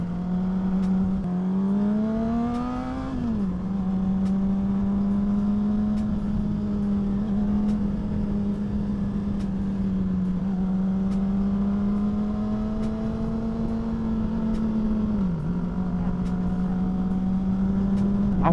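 Honda CBR 600 sport motorcycle riding on slippery dirt backroads, its engine droning steadily and loud throughout with several rising and falling pitch shifts as the throttle is worked, with wind rush over the top.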